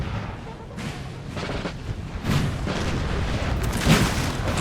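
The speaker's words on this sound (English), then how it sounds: "The artillery now firing." Six-pounder artillery fires in a Napoleon Total War recreation of the 1808 Battle of Lapua, with repeated booms rolling through a continuous battlefield din and a heavier report near the end.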